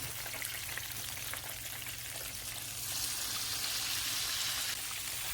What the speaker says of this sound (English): So I'm cooking this on medium high very slowly.